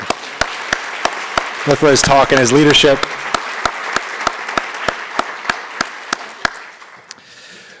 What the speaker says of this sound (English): So let's have one more round of applause for Dr. Mitchell